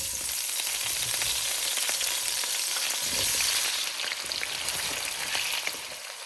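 Potatoes frying in oil in a pan for an aloo baingan dish, giving a loud, continuous close-up sizzle and crackle that runs steadily throughout without any voices.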